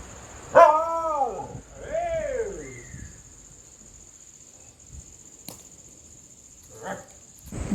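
A pet dog at a family home gives a couple of close, loud barks and yelps, followed by quieter whimpers, faint scattered sounds and a thin high electronic whine, with no talking.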